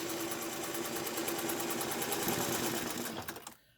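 A sewing machine stitches a fabric mask with a steady, close mechanical whir and a fast rhythmic stitch pulse, including a backstitch, running continuously before stopping abruptly near the end.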